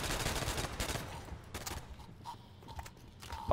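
Gunfire sounds in the Call of Duty World at War video game as barrels are shot, a cluster of fairly faint rapid shots and scattered sharp reports amid background game noise.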